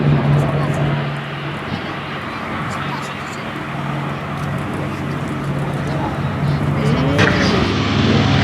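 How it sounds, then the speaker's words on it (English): Droning propeller engines of a Douglas DC-6 airliner taking off at the Duxford airshow, a steady roar under a commentator's voice speaking throughout. "Off goes the DC-6 underneath."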